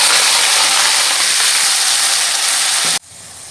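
Leafy greens tipped into a pan of fried onion and garlic, sending up a loud, steady, close sizzling hiss that holds for about three seconds and then cuts off abruptly to quieter background.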